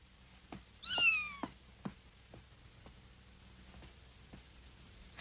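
Kitten giving one clear, rising-and-falling meow, fairly close, among scattered faint ticks and knocks in a quiet indoor room, with no speech.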